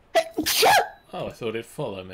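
A single sharp, loud sneeze bursts out close to the mic, followed immediately by a person talking.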